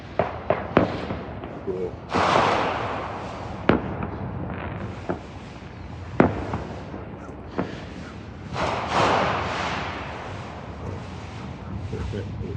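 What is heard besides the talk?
fireworks exploding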